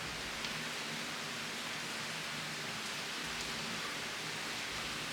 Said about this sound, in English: I was enjoying the downpour outside